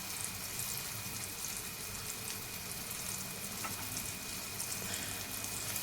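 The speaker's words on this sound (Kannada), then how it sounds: "ಇಲ್ಲಿ ನೋಡ್ತಿರ್ಬೋದು ಪನ್ನೀರು ಎಷ್ಟು ಚೆನ್ನಾಗಿ ರೋಸ್ಟ್ ಆಗ್ತಾ ಇದೆ ಎರಡು ಸೈಡು." Paneer cubes roast in a pan for a homemade paneer starter, giving a soft, steady sizzle throughout, with no talking.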